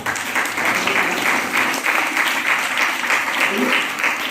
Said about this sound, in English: clap for him first of all